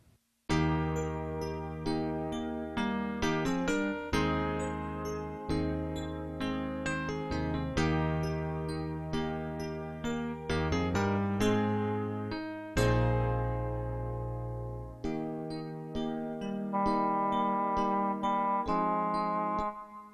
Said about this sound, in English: It was like an electric piano player, just very basic sound with just a simple solo sound.